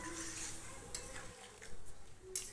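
Goat meat curry with potatoes is stirred in a pot just after water is added, giving quiet scraping and sloshing with a few faint clinks of the spoon against the metal.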